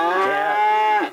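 A single loud, close moo from a cow at a cattle sale in Dalby, drawn out for about a second with no other sound around it.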